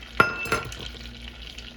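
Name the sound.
butter and brown sugar cooking into caramel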